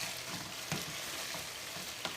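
Chicken karahi gravy with fresh cream frying in a pan, giving a steady low sizzle with a few soft stirring scrapes, close and fairly quiet, no voices.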